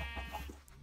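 A single sheep bleats in a Minecraft-style survival multiplayer game, a short wavering cry at moderate level over a steady low background hum, with no talking.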